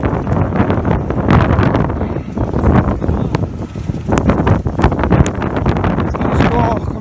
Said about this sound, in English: Some squall coming through.